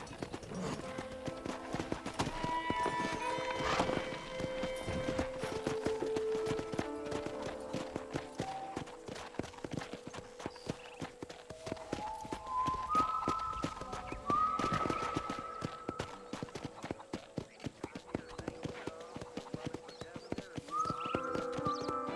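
Rhythmic clip-clop of horse hooves trotting steadily in Red Dead Redemption, mixed with game music tones and ambient background sounds, no talking.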